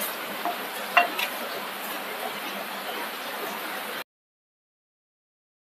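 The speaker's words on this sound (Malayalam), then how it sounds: "നല്ല കരികരിപ്പായിട്ട് വറുത്തെടുക്കണം" Masala chickpeas roasting with curry leaves in a pan, a steady dry sizzle with a few scraping stirs near the start, cutting off abruptly into silence after about four seconds.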